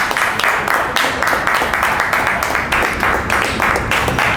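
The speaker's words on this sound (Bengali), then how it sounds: "হাততালি, একটা সবাই একটা হাততালি দেবেন" A crowd claps together after a biryani-eating challenge, a dense, loud burst of applause with a quick, uneven rhythm that carries steadily through the whole moment.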